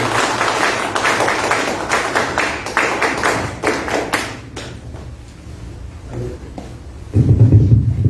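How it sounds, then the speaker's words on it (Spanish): An audience at a Peruvian international trade event applauds a speaker with several seconds of scattered, fairly close clapping that thins out, followed by quieter handling thumps and a low rumble. "Fuertes palmas para Javier Labarte, por favor."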